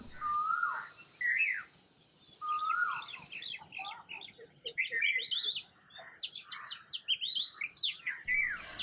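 Rare wild birds calling outside a window in a small woodland, a faint scatter of clear whistled notes and rapid chirps, sparse at first and then thickening into a busy overlapping chorus.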